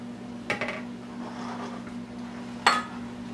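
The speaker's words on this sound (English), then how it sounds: "Mix all that together." A utensil clinks against a mixing bowl while chocolate chess pie filling is stirred, two sharp clanks about two seconds apart over a quiet background hum.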